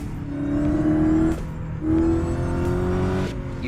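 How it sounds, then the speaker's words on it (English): A BMW M2 CS revs in two long pulls, each rising tonal whine climbing then cutting off sharply, with a steady engine drone underneath; loud and close, no talk. "You can hear the whine of the supercharger"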